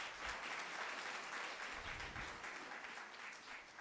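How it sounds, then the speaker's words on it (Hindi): Audience applause at a stage program of a support staff skill fair: a dense, steady wash of many hands clapping that fills the whole stretch without a break. "तालियों से हौसला दीजिए।"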